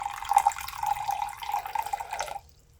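Warm tap water streams into a mason jar in a steady, close trickle that stops abruptly near the end.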